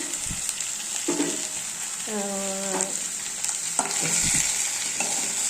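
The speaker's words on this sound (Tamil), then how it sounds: "இனி நம்ம இந்த கத்திரிக்காயை போட்டு காயெல்லாம் போட்டு வணக்கிட்டுங்க." Brinjal and other vegetables frying in oil with sambar powder and salt in a cooker, a close sizzle with several scraping stir strokes and a brief squeaky scrape in the middle.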